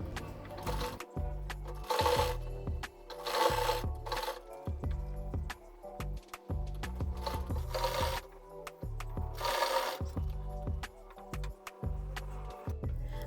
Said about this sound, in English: And now it's time to sew.